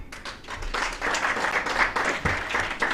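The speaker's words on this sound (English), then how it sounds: "A round of applause for the IG." An audience breaks into sustained applause for the police Inspector General at a formal event, dense clapping that swells and holds for several seconds without speech.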